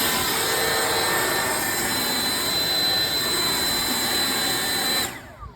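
Echo DPB-5800T battery-powered leaf blower roaring in turbo mode, a loud steady broadband rush with a high whine, held continuously up close before cutting off abruptly near the end.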